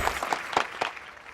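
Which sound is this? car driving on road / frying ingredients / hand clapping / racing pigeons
hand clapping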